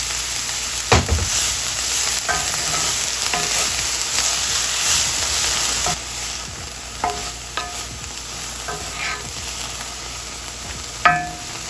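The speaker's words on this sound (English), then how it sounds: "Just a little bit, sweat the onion and the pepper." Onion and pepper sweating with a little salt in a hot pan, a steady loud sizzle broken by several sharp stirring scrapes and clinks, close and with no one talking.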